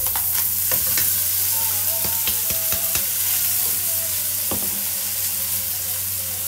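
Golden vermicelli and washed, drained rice fry in a pot with a steady sizzle, while a spoon scrapes and clinks against the sides in quick, irregular stirring strokes.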